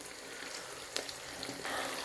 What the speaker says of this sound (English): I'm gonna put the frying eggs on top, right here